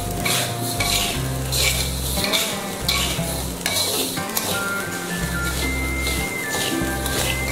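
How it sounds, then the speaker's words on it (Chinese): Salt and Sichuan peppercorns are stir-fried in a wok, with a steady loud sizzle and scraping, clinking stirs of a utensil against the metal continuing throughout. "接着翻炒一下"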